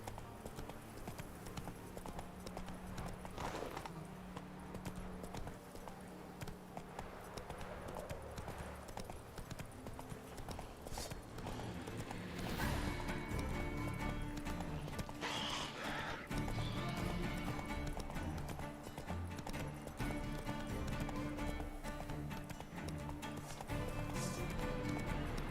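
Roach the horse in The Witcher 3 gallops with rhythmic clip-clop hoofbeats that grow louder midway, with whinnying bursts and game ambience underneath, no speech.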